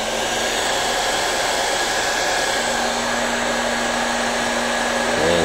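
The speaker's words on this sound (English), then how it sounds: "that allows me to point heat gun at the heat shrink tubing." Heat gun blowing hot air onto heat shrink tubing on a foam EPP model airplane, a steady loud whirring fan hiss with a constant hum, running continuously without talk.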